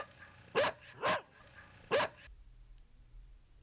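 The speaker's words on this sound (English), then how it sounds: "Dog." A dog barks three times in quick succession, each bark loud and close, followed by a quiet pause with faint low background noise.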